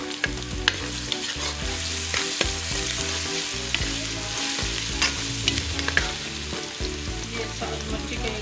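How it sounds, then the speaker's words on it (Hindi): Onions frying in a pan with garlic-ginger paste just stirred in, a steady close sizzle broken by scraping stirs and small pops, village-style cooking with no talking. "प्याज फ्राई हो गया, मैं लहसुन अदरक का पेस्ट शामिल कर रही हूँ।"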